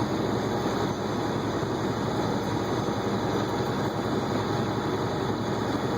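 Big locomotive engine idling on one cylinder, a dense, steady low rumble with a constant mechanical drone, unbroken and fairly loud throughout.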